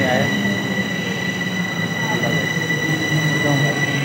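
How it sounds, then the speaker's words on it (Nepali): A metro train arrives at a station in Bucharest, rumbling loudly and close by with sustained high wheel squeal and faint voices underneath. "फाइनल्ली गाइज हाम्रो मेट्रो पनि आइसक्यो है।"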